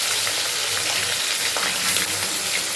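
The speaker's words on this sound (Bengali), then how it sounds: "এদিকে তোমাদের দাদাভাই মাছ ভাজতে বসিয়ে দিয়েছে" Rohu fish frying in a pan gives off a dense, constant crackling sizzle, loud and close, with no pauses and no speech.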